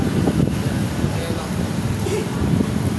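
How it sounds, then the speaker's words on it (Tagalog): Steady roaring typhoon wind buffets the microphone without a break outside a mall, loud and close, covering any other sound. "Ang lakas po, lakas ng hangin."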